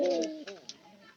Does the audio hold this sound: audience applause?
no